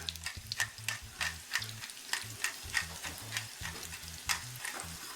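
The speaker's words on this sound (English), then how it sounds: "We got our pork butt browning off here" Pork butt browning in a hot pan gives a steady sizzle, with a crackling, frying texture that runs through the whole stretch. Clicks and pops recur close by, and nobody speaks over the cooking.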